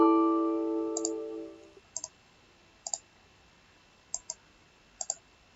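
Computer mouse clicks while working in Visual Basic: five quick double-click pairs spaced about a second apart, crisp and close in a quiet room, after a fading tonal sound at the start.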